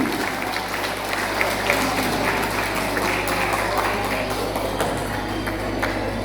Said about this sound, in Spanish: Fuertes los aplausos entonces al Mariachi Lucero Guaraní